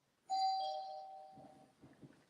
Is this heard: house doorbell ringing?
yes